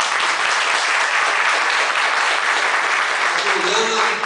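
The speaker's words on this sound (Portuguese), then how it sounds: "Eu, primeiro, até peço uma salva de palmas para ela." Audience applause at a municipal tribute ceremony in Vila Prudente, a dense, steady wash of clapping from a crowd, loud and continuous, with a voice faintly emerging near the end.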